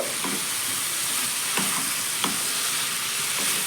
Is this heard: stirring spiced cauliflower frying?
yes